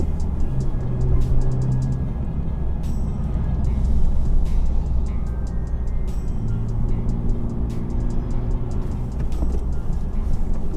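Honda Civic Type R running at high speed and downshifting into second gear, a steady loud engine and road drone with brief shift blips, no talk over it.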